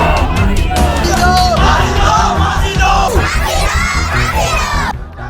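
A dense, loud protest crowd chants and shouts in unison, calling for the culprits to be hanged, voices overlapping in a continuous roar with rhythmic yelled phrases.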